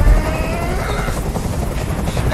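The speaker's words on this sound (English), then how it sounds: "I can't stand that noise anymore. Tell that helicopter to get out of here." Helicopter rotor noise from the video game Detroit: Become Human, a steady, loud, close throbbing drone that fills the whole stretch without a break.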